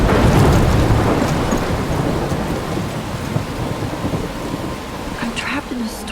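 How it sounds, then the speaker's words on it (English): Heavy rain pours steadily in a Life is Strange thunderstorm, with low rumbling thunder rolling underneath throughout and a faint voice briefly surfacing near the end. "I'm trapped in a storm?"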